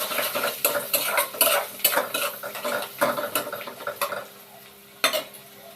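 Coriander, cumin, turmeric and chilli powder are stirred into hot frying oil for a rui fish curry. A close sizzle runs under busy, rhythmic scraping and clinking of a metal utensil against the pan, with one louder knock near the end.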